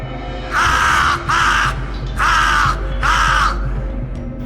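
A cartoon crow in an animated Bengali moral story gives four loud, harsh caws in two pairs, each lasting about half a second, over a faint steady background.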